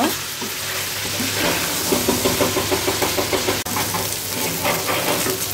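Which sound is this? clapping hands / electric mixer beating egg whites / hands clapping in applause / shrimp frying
shrimp frying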